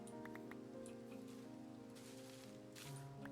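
Minecraft rain patters in a steady, even hiss beneath the game's tonal background, constant and fairly faint with no voices.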